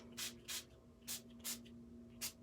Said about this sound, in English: So this is just a plain old distress spray